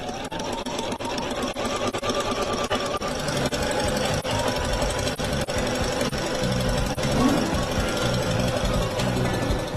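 A sewing machine stitches a fabric table runner while trimming away the excess, running in a loud, continuous buzz with rapid mechanical ticking throughout.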